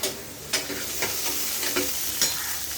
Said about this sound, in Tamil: கிள்ளி போட்ட சாம்பாருக்கு வதக்கின்னு இருக்கேன்